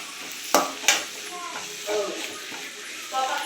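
Onions with a pinch of turmeric are sautéed and stirred in a pan, with two sharp spoon knocks early on, then soft sizzling and scraping strokes at a steady pace.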